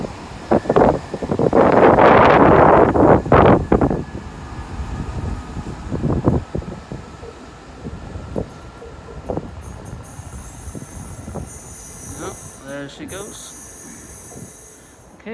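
A South Western Railway train pulls out of Fratton station, starting with a loud rumble and hiss that fades into quieter rolling wheel clatter, with a brief squeal late on and faint voices on the platform.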